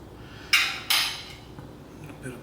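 A small spoon is handled among dishes while making eggplant caponata, giving two sharp metallic clinks close by, each ringing briefly, followed by faint softer taps.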